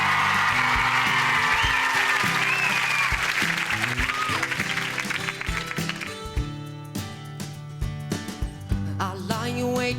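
A song contest audience at the Junior Eurovision 2003 British final applauds and cheers loudly for several seconds. The clapping then thins out as a live song's music begins over the last of the applause.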